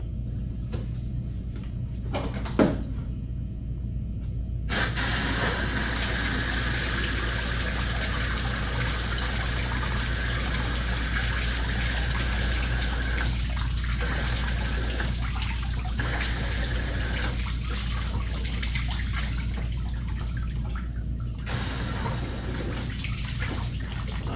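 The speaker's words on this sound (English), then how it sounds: "hit it with the garden hose" Garden hose on a rinse setting jetting water through the cooling hoses of a Chevy or GMC van during a coolant flush, a steady loud rushing spray that runs almost without a break and stops briefly near the start and near the end.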